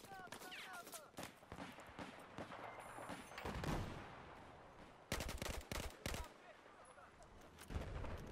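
Gunfire in Battlefield 4 aimed at a spawn beacon, a string of sharp single and clustered shots with gaps between, moderately loud over a busy game backdrop, with someone speaking between the shots.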